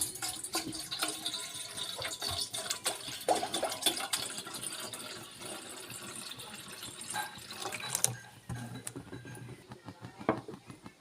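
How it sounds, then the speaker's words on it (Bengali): Tap water runs into a cooking pot while pointed gourd sweets are being made, an uneven splashing pour with a few clinks, and someone talking faintly over it. "এবার পানি দিয়ে দেবো।"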